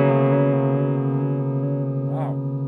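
Wet-only vibrato output of a TC Electronic Corona Chorus pedal on an electric guitar, a sustained chord wobbling steadily in pitch, loud and close, with a brief voice-like burst near the end.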